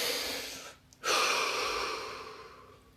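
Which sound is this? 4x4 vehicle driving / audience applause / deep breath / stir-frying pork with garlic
deep breath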